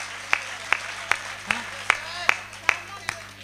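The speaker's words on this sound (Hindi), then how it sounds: "दोनों हाथ ऊपर उठाकर ताली बजाओ यार" Steady, evenly spaced claps sound about twice a second at a large Hindi poetry gathering, sharp and distinct over a low hum, as the crowd keeps time together with raised hands.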